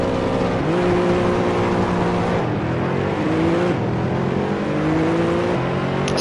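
A Ferrari race car engine in Assetto Corsa drones loudly and steadily, its pitch climbing through the gears with clear upshift drops, while other cars whine nearby.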